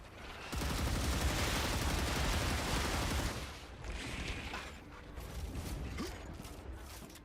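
A sustained, loud burst of rapid gunfire gives way to a short run of mechanical clicks and clacks as a weapon's magazine is swapped in the sci-fi shooter game Star Rupture.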